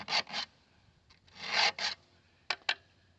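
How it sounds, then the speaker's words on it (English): A metal file rasps on chainsaw chain teeth in a sharpening jig on a Black & Decker Workmate, in short strokes, a few quick pairs and a longer pass, close by in an otherwise quiet space. "that's the chainsaw sharpening jig for the Black & Decker Workmate"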